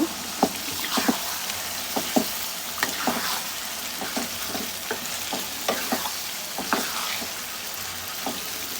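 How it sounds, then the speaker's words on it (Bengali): Chicken pieces go into spiced oil for a spicy chicken curry and are stirred, a loud close sizzle broken by repeated scraping and clattering stirring strokes at an irregular pace. "চিকেন গুলা দিয়ে দেবো ওটার মধ্যে এটাকে এখন ভালোভাবে নেড়ে চেড়ে মিশিয়ে নেব"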